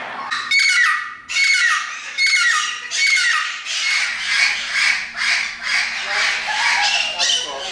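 Rescued parrots squawking in a sunny sunroom, harsh raspy calls coming in repeated overlapping bursts, loud and close.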